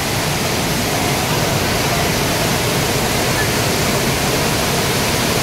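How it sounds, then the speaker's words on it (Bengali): Kanchenjunga Falls near Pelling roars in a steady, dense rush of falling water, loud and unbroken throughout with no letup. "কাঞ্চনজঙ্ঘা ওয়াটারফলস।"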